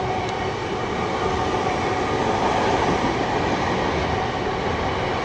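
A Class 315 electric multiple unit on TfL Rail passes Romford station with a steady, loud rolling roar of wheels on track that holds for several seconds, with no voices.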